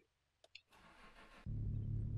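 Car engine starting in the video game Mon Bazou: a couple of small clicks, then a short starter crank, and the engine catches into a loud, steady run.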